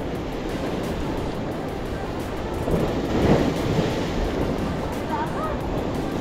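Heavy surf roars steadily throughout after a strong storm, a dense wash of crashing waves with a louder surge in the middle, plus some wind buffeting.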